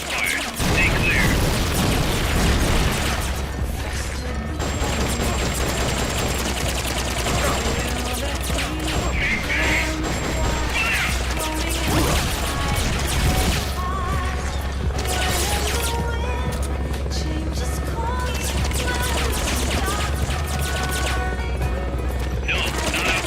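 Distant supporting artillery fire in the Metal Gear Solid Peace Walker video game rumbles and crashes continuously as a dense barrage of booms and bursts over a low mechanical drone, with game voices talking throughout.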